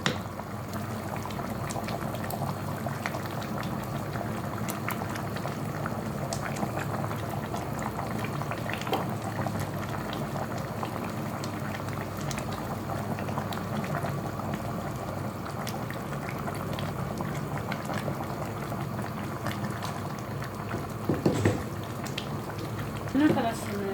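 A pot of meat broth is boiling, giving a steady, soft bubbling that continues throughout at moderate distance, with a few clinks near the end and a person talking quietly under it.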